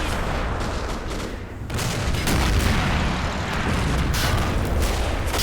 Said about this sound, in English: Some Russian artillery going off there.